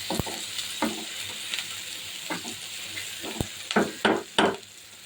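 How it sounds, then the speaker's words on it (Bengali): Hilsa fish frying in a pan with onion and chili makes a soft, continuous sizzle, broken by several sharp scraping stirs that grow busier toward the end. "এই যে বন্ধুরা, ইলিশ মাছের ভাজার জন্য পেঁয়াজ মরিচ দিয়ে দিয়েছি।"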